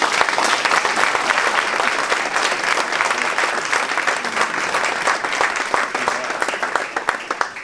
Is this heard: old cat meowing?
no